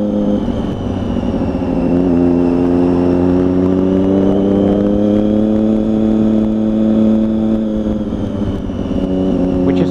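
Triumph Daytona 675 three-cylinder sports bike, black and gold, revving hard near a roundabout, a sustained, very loud, rising and falling engine roar that fills the whole stretch with no talk.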